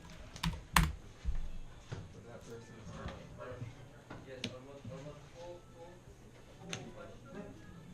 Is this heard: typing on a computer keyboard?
yes